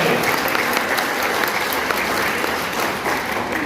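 A crowd at a Malay-Islamic world national working meeting gives sustained, dense applause, many hands clapping together loudly and evenly from start to finish.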